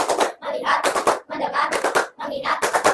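A classroom of children performs the "tepuk fokus" clap pattern, three loud bursts of rhythmic group clapping with short gaps between them, close and sharp.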